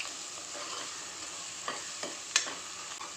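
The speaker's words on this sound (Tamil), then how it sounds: "ஒரு நிமிஷம் நல்லா எண்ணெயிலே வதக்கி விட்டுக்கலாம்." Quiet, steady sizzle of ingredients sautéing in hot oil in a pan for a fenugreek curry, with a few soft scraping stirs and one sharper clink near the end, no voices.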